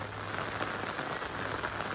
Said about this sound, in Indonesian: Karena memang hujan disertai kabut ini.